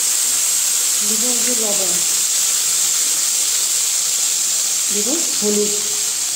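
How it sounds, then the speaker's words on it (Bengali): Potatoes and chalta fry in hot oil with cumin, giving a steady close sizzling hiss throughout, while someone speaks Bengali over it. "দিয়ে আমি ভালো করে ভেজে নিব আলু আর চালতাটা।"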